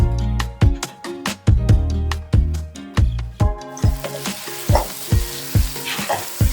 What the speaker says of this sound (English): now you're just gonna sear this in your oil on medium heat until each side is nice and brown